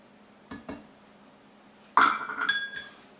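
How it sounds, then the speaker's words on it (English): A utensil stirring teriyaki sauce with honey in a cooking pot gives a few light clinks, then a brighter cluster of metallic scraping and ringing knocks, close and fairly quiet, with no voices. "We're going to stir this up and bring it to boil."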